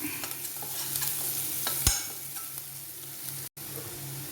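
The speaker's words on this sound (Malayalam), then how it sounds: "സവോള ഇട്ട് കൊടുത്തത് വഴന്നു വന്നു ഇനി നമുക്കിതിലേക്ക് കുരുമുളക് പൊടി ഇട്ട് ഒന്ന് ഇളക്കിയിട്ട്" Softened onions sizzle in a pan with black pepper powder for a yam stir-fry while a spoon scrapes and stirs them, a steady close frying hiss with a sharp clack partway through and no voices.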